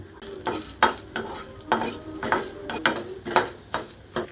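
Coriander seeds, chana dal and black pepper are dry-roasted in a pan for Mysore rasam and stirred, giving repeated rattling scrapes roughly every half second over a faint sizzle, close and without speech.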